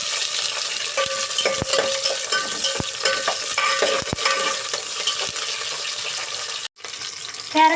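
Carrot, green chili and curry leaves frying in oil while being stirred, a steady sizzle with sharp utensil clicks against the pan, briefly dropping out near the end.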